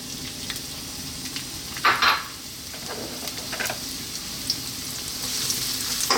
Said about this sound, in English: Next up, we're going to drop in our onion.